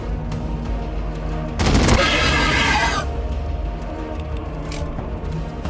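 Gunfire in the video game Warhammer 40,000 Battlesector, a loud burst of rapid shots lasting about a second amid continuous battle noise.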